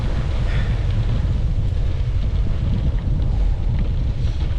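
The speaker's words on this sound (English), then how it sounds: "This wind is crazy. Very strong headwind and crosswinds." Strong headwind and gusting crosswind during a bicycle ride buffet the microphone with a loud, continuous low rumble that keeps shifting in strength, and no one speaks.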